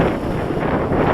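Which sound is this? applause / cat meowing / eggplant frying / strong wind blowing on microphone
strong wind blowing on microphone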